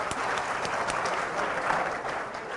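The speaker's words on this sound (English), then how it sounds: "So you can clap for that one." An audience bursts into steady, dense applause at a campus update announcement about a road reopening, the clapping sustained and fairly loud throughout without pause.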